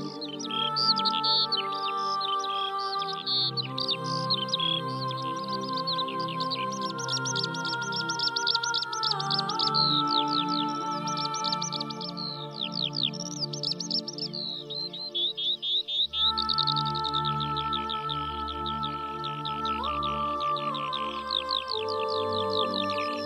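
Several birds sing in a natural area of open plains, with varied whistled phrases, trills and chirps overlapping steadily and clearly from close by, joined partway through by a lower hum, with no voices.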